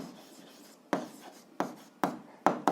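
Pen scratching out an answer on paper for a seventh-grade algebra exercise, a soft continuous rasp followed by several sharper strokes close by, with no talking.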